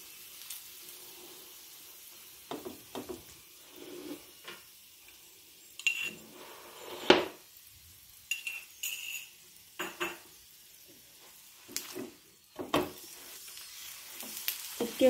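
An onion-stuffed paratha flatbread fries in a pan until golden brown. A soft, steady sizzle runs underneath while sharp clinks and scrapes of a utensil against the pan come and go.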